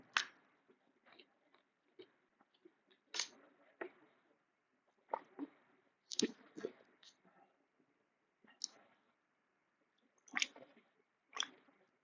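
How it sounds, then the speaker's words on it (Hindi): A person pauses mid-lecture to drink water, giving a few soft, close sips and swallows separated by quiet gaps, with light clicks of a cup or bottle in a quiet room. "एक सेकंड पानी पी लेता हूँ।"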